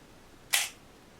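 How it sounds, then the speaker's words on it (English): A Pentax ME 35mm SLR camera fires its shutter once, a single crisp mechanical snap close to the microphone, alone in a quiet room. "take a look at the shutter."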